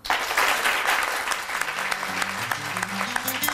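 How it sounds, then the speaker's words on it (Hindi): Studio audience clapping loudly on a weekend TV show, a dense burst of applause that thins toward the end as a presenter begins speaking over it. "बहुत सी तालियों में हमारे साथ मौजूद है हमारी हर्बलिस्ट नैयर आपा।"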